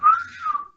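A single short, casual whistled note, close and clear, rising slightly and then sliding down, heard alone.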